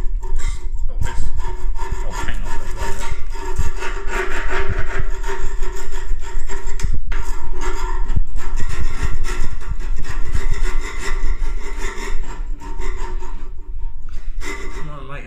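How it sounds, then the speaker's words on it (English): Continuous close, loud scraping as a small scraper removes excess from a radiator surface, a gritty rasping texture with a steady back-and-forth rhythm and someone speaking over it. "just get a little scraper and scrape the excess of that stuff off"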